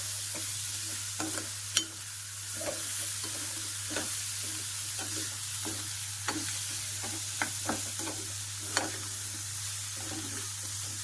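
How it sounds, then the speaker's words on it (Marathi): Potatoes stirred and mixed in a pan give soft, irregular scraping strokes over a low, steady sizzle, with a constant hum in the background. "आता मी त्याच्यामध्ये आलू टाकते आणि मग ते एकजीव करून घेते"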